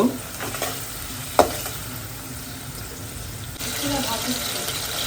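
Onions frying in a pan until light brown, a steady close sizzle with a few stirring scrapes and a sharp clink near the start, the hiss growing slightly louder toward the end.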